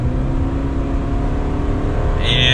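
A 2021 Subaru Crosstrek Sport accelerates in SI drive mode, its engine drone steady and loud from inside the cabin, rising in pitch near the end.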